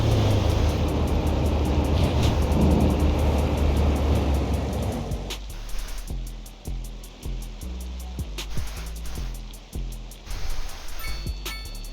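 Electric bus in the city-building game Cities Skylines II, a steady rushing hum giving way to a rhythmic series of low pulsing thumps and whirs, fairly close and continuous with no talk.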